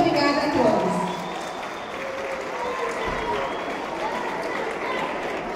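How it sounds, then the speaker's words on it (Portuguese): An audience applauds at the close of an event, with a dense, steady patter of clapping that is strongest at the start and then settles into continuous crowd noise. "Vamos aplaudi-los, pessoal."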